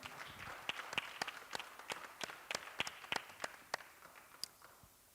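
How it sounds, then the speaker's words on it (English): Scattered applause from a small audience, a few dozen sharp claps in a loose uneven rhythm, moderately distant and fading toward the end. "please give a warm round of applause to our panelists today"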